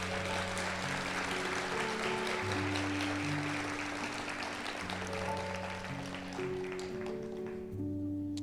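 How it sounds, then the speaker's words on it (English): Applause from a ceremony audience for a group of nursing students at a white coat ceremony, a dense steady wash of many hands clapping throughout, with sustained organ-like music tones running underneath. "can we give applause for these great group of students here"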